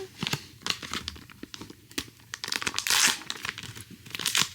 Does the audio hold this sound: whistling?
no